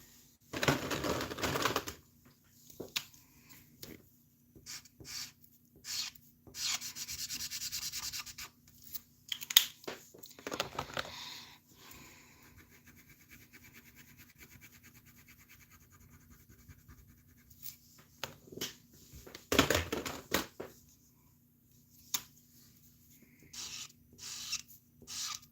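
Crayon and marker being worked over paper in a mixed media art piece, giving intermittent close scratchy rubbing strokes in bursts with quiet pauses between them.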